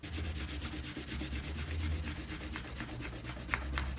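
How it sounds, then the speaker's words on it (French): A pencil eraser rubs construction lines off a paper drawing, making a quiet, rapid back-and-forth scrubbing with an even rhythm, heard close and alone for about four seconds. "on peut gommer les traits de construction"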